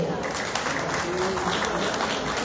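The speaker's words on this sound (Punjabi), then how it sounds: "ਜ਼ੋਰਦਾਰ ਤਾੜੀਆਂ ਮਨਵੀਰ ਸਿੰਘ ਜੀ ਵਾਸਤੇ" Loud, steady applause from a crowd at an employees' protest rally over a 16% dearness allowance, greeting speaker Manvir Singh; the dense clapping fills the whole stretch beneath voices.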